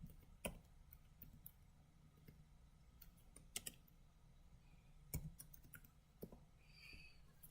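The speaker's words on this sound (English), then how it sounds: "Okay, typing in my password." Someone types a password on a computer keyboard with soft, irregular key clicks scattered at a faint level over a low background hum, with no talking.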